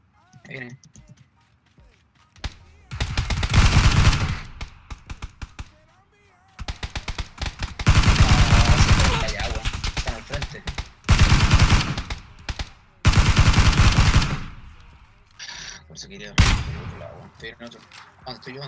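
Long sustained bursts of rapid automatic gunfire in a video game, loud and repeated in several volleys separated by short pauses, with voices talking over parts of the action.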